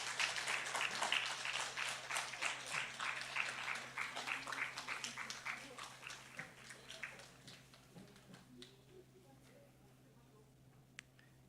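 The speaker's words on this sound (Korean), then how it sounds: "이럴 때는 박수도 함께 있으면 더 좋겠죠." Congregation applause during a Sunday church service, a dense spread of clapping near and loud at first that gradually thins and fades over the closing seconds, with a steady low hum underneath.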